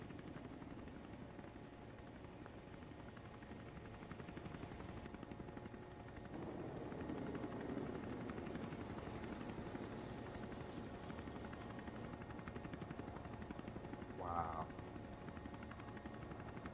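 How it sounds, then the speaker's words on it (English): Formation of military attack helicopters passing over the 2020 Russian Victory Day parade, a continuous rotor roar that swells midway and stays steady, with a brief voice near the end. "Those were like different, a group of different helicopters or fighting helicopters that they shown at the in the air."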